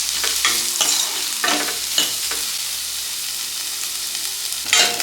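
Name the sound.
chopped onions sautéing in a pan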